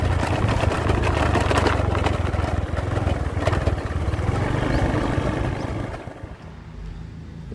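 Fuel-injected Honda motorcycle with a replaced fuel pump filter runs at a close, steady, buzzy idle with a rapid even rhythm, then cuts off near the end.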